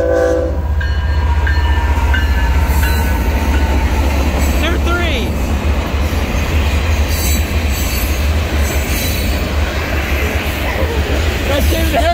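A CSX northbound mixed freight train rolls past close by with a loud, continuous roar of wagons. Wheels squeal, a horn sounds, and excited voices shout over it.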